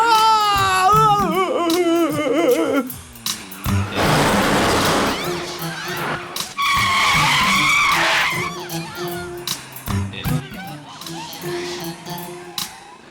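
A car's tires screech into a sudden skidding stop in a 1996 Hindi film scene, with a loud drawn-out squeal amid dramatic music and shouting voices.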